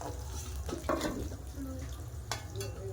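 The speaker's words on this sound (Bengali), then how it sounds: "কড়া ছোটো তো ওই জন্য আমাকে কম কম করে ভেজে নিতে হচ্ছে" Potato pieces for Kashmiri dum aloo fry in oil in a small wok, making a soft, steady sizzle with a few faint stirring scrapes.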